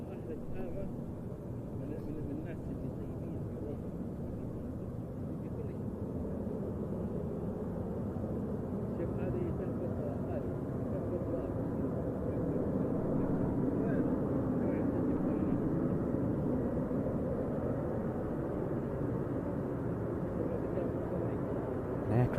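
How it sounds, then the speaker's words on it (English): Two Harrier jets arrive at the RIAT airshow, their engines a steady, distant low roar. The noise swells slightly over the span, and a commentator talks over it throughout. "I think this looks like the two Harriers"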